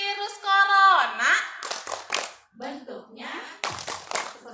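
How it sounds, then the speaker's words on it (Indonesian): A group of teachers claps out a rhythmic corona virus clapping game, sharp bursts of hand claps alternating with a chanted, sing-song voice. "Tepuk virus corona."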